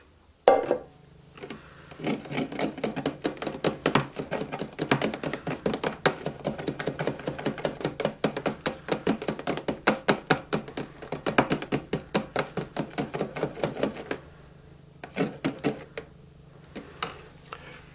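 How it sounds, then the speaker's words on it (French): Homemade giant soap bubble liquid, made without glycerine, being stirred in a container, a long run of quick rhythmic clicking knocks from the utensil against the sides, close and steady, pausing briefly near the end before a few more strokes. "à chaque fois que vous vous servez de votre liquide, il faut bien le mélanger"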